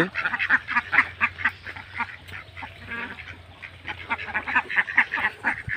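Farm ducks sitting in the sun after their morning feed, quacking in repeated bursts from a small flock close by, with a low steady hum behind them.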